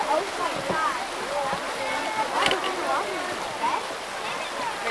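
Creek water runs steadily through a forested canyon floor, a continuous close rushing wash with splashy texture, while a person talks over it.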